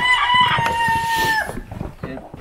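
Chickens on a homestead, with a rooster's long crow standing out over clucking and general barnyard commotion, loud and close; voices are faintly mixed in.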